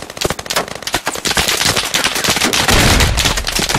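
Rapid bursts of AR rifle fire in the Squad military shooter, loud and close, with dense overlapping automatic shots and a heavier rumbling stretch toward the end.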